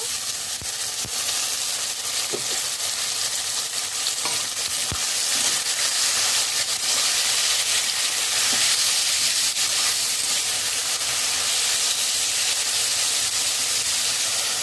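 Boiled vegetables frying with onions in a pan on a high flame, a steady loud sizzle with occasional stirring scrapes throughout and no talking.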